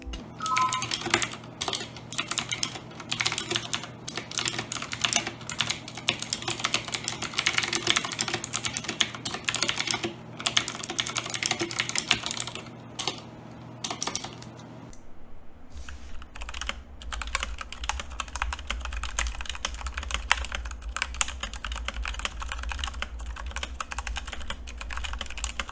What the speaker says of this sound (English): I did a sound test for this keyboard when I got it around 5 months ago